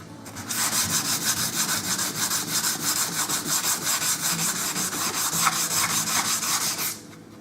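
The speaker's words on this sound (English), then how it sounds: "it doesn't really matter to me which way I'm going to sand it" A plywood electric guitar body is sanded by hand in a steady run of rhythmic back-and-forth rasping strokes, close and loud, continuing for about six seconds and then stopping.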